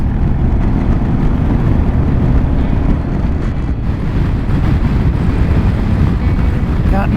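Strong wind buffets a microphone outdoors along an Arizona highway, a loud, continuous low rumble that stays steady throughout.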